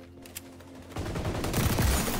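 Video-game gunfire in the online shooter XDefiant: after a quiet second, a dense, loud burst of rapid shots and explosive crackle fills the rest of the moment, with no talking.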